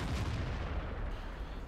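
A single tank cannon shot in World of Tanks, near a tier 4 British Alecto tank destroyer, lands as a muffled low boom right at the start, then rumbles and fades; it is faint overall.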